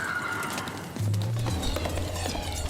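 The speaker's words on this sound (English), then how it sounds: "the horses become agitated again" Agitated horses in a barn on a horse farm in Stockton, New Jersey, with hoof clatter and restless movement over a steady low hum, fairly quiet and continuous.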